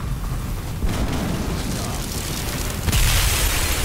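An enemy structure blows up in a strategy video game in a Colony versus Serina's Cryo Troopers match: dense, rumbling blasts that surge near 1 second and swell louder again near 3 seconds, with faint voice chatter mixed in.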